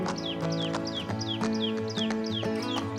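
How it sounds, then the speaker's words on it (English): Peacocks calling by Sagar Lake in Amber, Jaipur, repeated rising, wailing calls in a steady rhythm over a drone of birds and other animals, fairly close and loud. "Listen the beautiful music of the peacocks at here"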